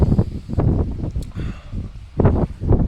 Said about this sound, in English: It's windy and it's cold though.